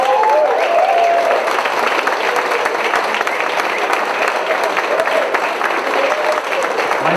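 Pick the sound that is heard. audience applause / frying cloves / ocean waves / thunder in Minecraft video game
audience applause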